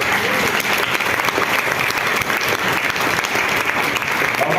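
A church congregation applauds together, a dense, loud and steady wash of clapping from many hands that fills the whole moment without a break.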